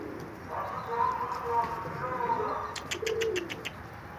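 Pigeons cooing close by in a soft, low rolling murmur, with a few sharp chirps and flutters toward the end. Someone speaks quietly over the birds.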